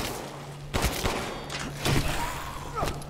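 Handgun fire in the Resident Evil Village video game, heard in the Heisenberg factory level: a few sharp separate shots spaced about a second apart, loud and close over a low game hum.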